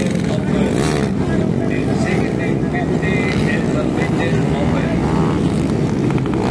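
An underbone racing motorcycle engine drones loudly and continuously at a race event, its buzzing roar mixed with crowd noise and an announcer talking over it throughout.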